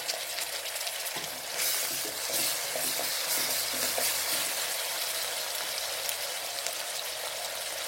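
Mint, coriander and ginger-garlic paste sautéing in a pan, a dense bright sizzle with intermittent stirring scrapes, close and continuous with no talk.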